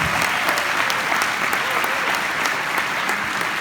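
An audience at a motivational talk in London breaks into applause, a dense, steady burst of clapping from a crowd lasting a few seconds.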